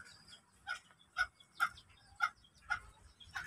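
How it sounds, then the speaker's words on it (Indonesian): Ayam Cemani ornamental chickens kept in a pen give about five short, close clucking calls spaced roughly half a second apart, with quiet rustling between them. "Kandang atau peliharaan ternak ayam cemani ya Ayam hias"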